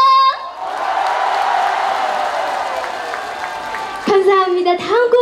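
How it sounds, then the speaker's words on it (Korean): Festival concert crowd in an outdoor venue erupting in loud applause and cheering, a sustained roar of clapping and shouts before a voice speaks over it near the end. "한 번 더 공연장이 흔들릴 정도로 박수와 함성!"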